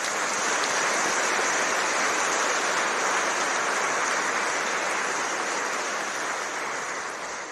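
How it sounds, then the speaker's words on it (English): Sustained audience applause at an LIBF graduation and presentation ceremony in 2024, a steady dense wash of clapping for the speakers that holds for several seconds and tapers slightly at the end. "one more short round of applause."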